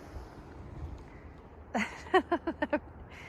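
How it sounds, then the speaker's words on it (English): A chickadee gives a short series of five or six quick, clear chirping notes at close range after a quiet stretch of faint background noise. "One of my favorite things for sure is the chickadees and all the birds."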